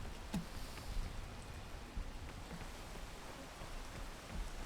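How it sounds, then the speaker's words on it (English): Rain falling in a video game, a faint and steady hiss that is continuous and even, with no voices. "Stop raining."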